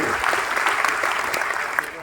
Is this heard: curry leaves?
no